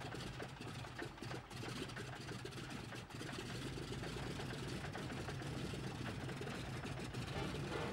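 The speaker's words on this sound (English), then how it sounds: "just starting the engines was an adventure all its own" Piston engines of a Douglas Dakota aircraft run with a steady, dense, heavy drone, loud and close, with a rough low rumble and no clear break through the whole stretch.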